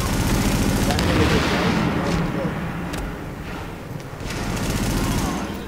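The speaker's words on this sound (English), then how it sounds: "The escort party's taking heavy fire from the roof." Heavy gunfire from a rooftop gunner in The Division, dense bursts of shots and booms forming a loud, continuous barrage with a brief lull midway.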